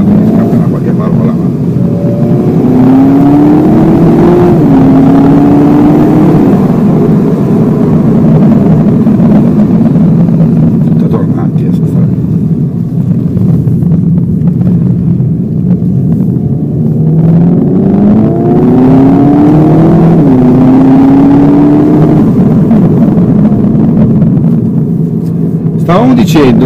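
A Seat Leon Cupra ST 300 hp 4Drive station wagon engine drones loudly on a road test drive, climbing in pitch through gear changes twice, with a person talking over the engine noise.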